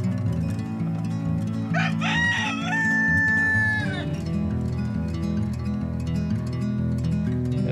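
Backyard chickens cluck continuously near a garden compost area while a rooster lets out one clear crow partway through.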